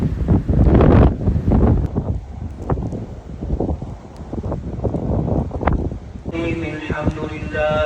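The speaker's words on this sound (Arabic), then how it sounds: "شوف واحد الريح." Gusty wind buffets the microphone in open countryside in Morocco during a rain shower, rising in loud rushing bursts then easing, with someone speaking intermittently over it.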